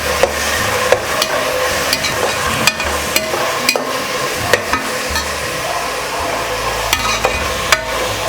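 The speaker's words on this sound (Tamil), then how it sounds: "ஒரு 2-3 நிமிஷம் நல்லா வதக்குவாங்க." Tomatoes and onions sauté in a pan for a goat trotter paya, a steady sizzle running under sharp, regular clacks of a spoon stirring against the metal, with no talking.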